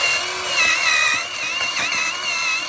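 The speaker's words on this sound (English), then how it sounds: "Get your angle. Take this wire wheel." A wire wheel on an angle grinder, used during brake pad and rotor work on a 2013-2018 Toyota Avalon, whines at a high, steady pitch that wavers slightly, loud and close with no talk.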